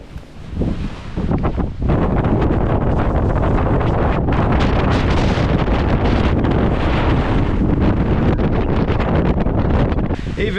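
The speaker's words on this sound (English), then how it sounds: "Even down here the wind is brutal." Strong, relentless wind roars in the New Zealand mountains at sunrise, buffeting a tent and microphone on the valley floor, loud and continuous after a brief gustier opening, with no talking.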